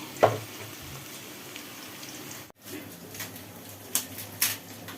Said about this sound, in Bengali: আর এই যে মাংসটা বানাবো তো তেলের মধ্যে পেঁয়াজগুলো আমি দিয়ে দিয়েছি